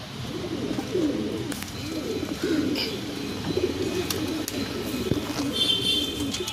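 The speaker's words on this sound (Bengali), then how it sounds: "এটাও আন্ধ্রা পায়রা" An Andhra pigeon coos close by in a repeated, low, throaty rhythm, the calls rolling one after another with no talking over them.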